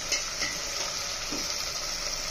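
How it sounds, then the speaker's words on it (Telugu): Tomatoes frying in a pan with a pinch of turmeric for gongura prawn biryani, a steady close sizzle with faint stirring scrapes running throughout. "వేగిన టమాటాలు వేసేసుకుందాం"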